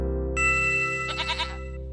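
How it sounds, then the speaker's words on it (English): A goat in a preschool animal cartoon gives a short wavering bleat over steady background music. "This is a goat"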